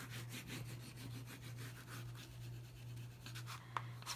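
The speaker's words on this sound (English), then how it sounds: "Give this a little burnish," A paper hanging-file-folder journal cover is burnished by hand, a soft, faint rhythmic rubbing of repeated strokes over a low steady hum.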